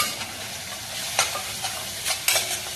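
A spoon stirs tomato masala in a pan with homemade red chili powder just added, giving a steady close sizzle broken by a few sharp scraping strokes against the pan.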